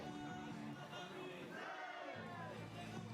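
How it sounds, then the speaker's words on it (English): Supporters at the Limerick 2023 World Archery Youth Championships compound team finals cheer and shout in the rain, a continuous distant crowd roar with rising voices. "there's some hardy supporters out there still cheering on their 2 teams"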